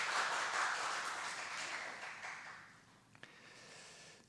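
A church congregation at a Friday service applauds to welcome new members, a dense wash of hand claps that gradually thins out and fades, with one or two sharp taps near the end.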